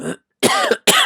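A man with a cold coughs three times in quick succession, close to the microphone, with short silent gaps between the harsh bursts.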